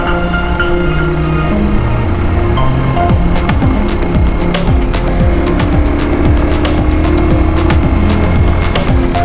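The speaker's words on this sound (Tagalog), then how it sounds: "Naugong yung makina eh." A Honda TMX 125 motorcycle engine drones loud and steady while riding along a road, with a continuous roar and some rattling clicks on top, and no talk.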